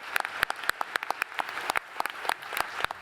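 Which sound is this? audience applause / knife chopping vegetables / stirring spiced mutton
audience applause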